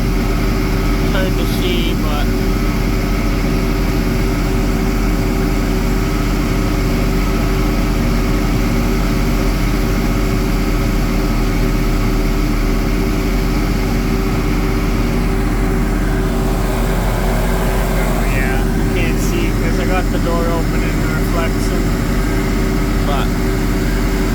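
A 2350 tractor pulling a silage wagon bogs down with its wheels spinning, a loud, constant, low engine drone running throughout, with a voice speaking faintly beneath it.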